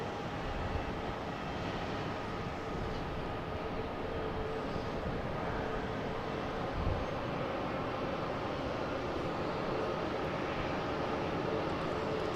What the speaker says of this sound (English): Next one begins a Delta 767 from Dublin